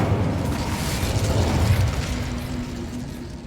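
Incendio fire spell blast from Hogwarts Legacy: a sustained, loud roaring whoosh with a deep rumble that holds steady for a few seconds, then eases off into a thinner sustained hum.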